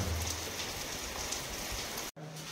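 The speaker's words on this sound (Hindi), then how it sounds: "वर्षा माने राति सारा वर्षा" Steady rain falls in a continuous, even hiss of drops on a surface, close and moderately loud, cutting out for a split second near the end before resuming.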